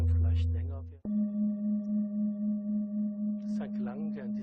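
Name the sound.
singing bowl tones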